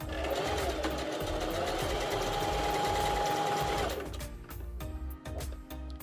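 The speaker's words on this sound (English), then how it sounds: "Bring it to your sewing machine." A sewing machine whirs rapidly and steadily for several seconds stitching fabric for scrunchies, then slows and stops, leaving scattered quieter clicks and handling noises.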